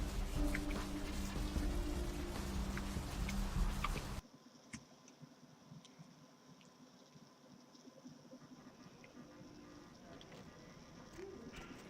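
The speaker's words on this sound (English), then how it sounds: "Oh, starting to rain." Rain falls in the game Vampire: The Masquerade – Bloodlines. A busy, louder stretch at the start gives way to soft, steady rain with scattered light ticking drops.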